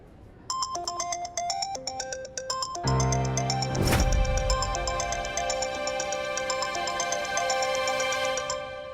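A melodic phone ringtone plays over and over without stopping, loud and close, with a brief swell partway through and no voices.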